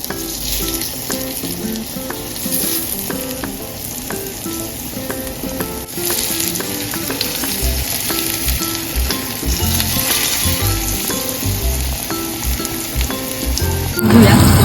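Alu vadi, rolled colocasia-leaf slices, shallow-fry in hot oil with sesame seeds in a pan for a Maharashtrian snack, giving a steady, loud, close sizzle that crackles on without pause.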